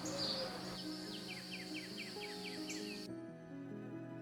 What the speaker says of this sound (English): Japanese bush warblers sing from